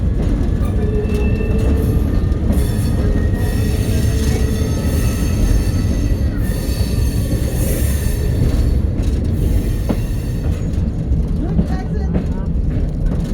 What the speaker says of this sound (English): We're going past the train cars again.